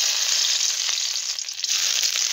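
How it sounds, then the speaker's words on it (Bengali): Chopped garlic and ginger hit hot oil in a kadai, left over from frying eggs, giving a loud, steady, close sizzle with a few small crackles and no talking. "এখন কড়াইয়ের মধ্যে দিয়ে দিচ্ছি রসুন কুচি আর আদা"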